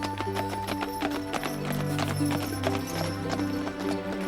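Horse hooves clip-clop in a steady rhythm as a horse hitch pulls along, close and fairly loud, with sustained tonal music playing underneath throughout.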